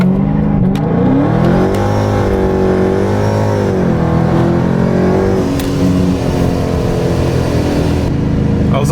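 A loud supercharged Dodge Charger Scat Pack engine roars close up and pulls hard on drag radials, its pitch climbing and dipping through the gears in one sustained acceleration.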